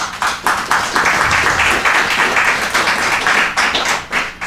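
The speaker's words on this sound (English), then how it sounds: "Let's give them a round of applause." Audience applause for students at a school event, a dense, steady wash of clapping that fills the whole stretch fairly close and loud, with a few sharper individual claps standing out.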